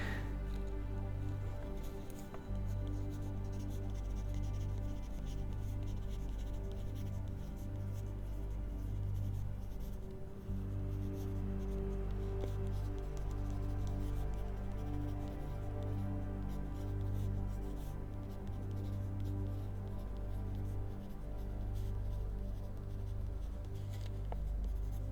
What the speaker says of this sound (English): Got a piece of paper and a pen right here